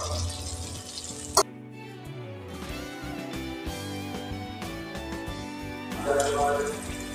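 Sliced green chillies frying in butter in a pan: a steady sizzle throughout, with a sharp clink near the start and stirring scrapes, the sizzling swelling louder toward the end; a voice talks over it at times.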